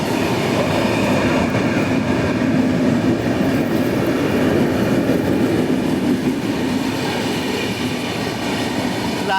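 The 12767 Hazur Sahib Nanded–Santragachi SF Express skips a station at speed, a loud continuous rumble of wheels on rail with rattling carriages, heard from on board and steady throughout.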